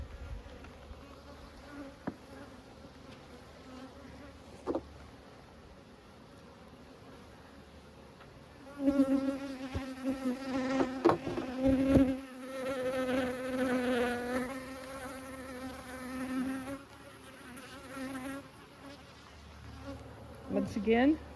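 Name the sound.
honey bees buzzing during a hive inspection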